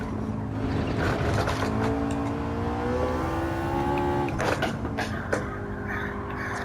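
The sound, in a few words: McLaren 650S car engine accelerating in Gran Turismo 7 video game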